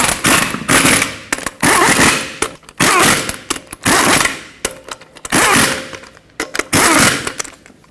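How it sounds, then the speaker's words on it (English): Wheel lug nuts on a 2003-2012 Chevrolet Colorado 4x4 are tightened in a cross pattern with a power tool, heard as a series of loud, close, rattling bursts separated by short pauses. "we're going to torque them to 103 foot-pounds"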